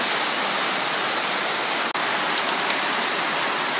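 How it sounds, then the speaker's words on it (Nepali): Heavy rain mixed with light hail in Bhojpur, Nepal, falling as a loud, steady hiss and patter on nearby surfaces, with one sharp brief dropout midway through. "ठुलो पानी परिरहेको छ यहाँ अहिले"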